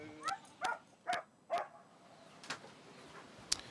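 Small dog yipping four times in a quick regular rhythm, close by, then a few fainter whimpering yips trailing off with a sharp click near the end.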